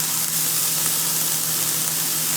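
Vegetables sauté in a hot pan, giving a steady, loud, close hiss and crackle of sizzling with no talk over it.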